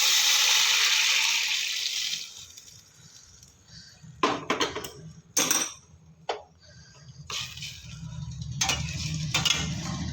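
Warm water is poured into a pan of frying rice for polao, giving a gentle pouring hiss at first, then utensil knocks and scraping as the rice is stirred.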